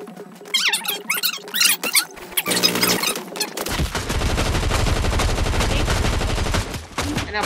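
Gunfire in the video game Fortnite: after a stretch of squeaky, chattering game effects, a loud, dense rapid-fire burst starts midway and rattles on steadily to the end.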